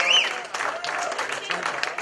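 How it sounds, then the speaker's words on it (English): At a comedy club contest, the crowd applauds the comedians with a sustained roar of clapping, opening with a short whistle and mixed with cheering voices and talk. "Give them all another round of applause."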